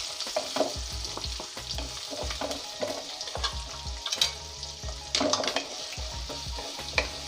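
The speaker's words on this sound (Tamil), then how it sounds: "நறுக்கி வச்சுருக்க வெங்காயத்தை போட்டு" Chopped onions fry and sizzle in hot oil with bay leaf, cardamom, clove and cinnamon for a tomato gravy, with a spoon repeatedly scraping and stirring the pan in a steady rhythm, close and clear.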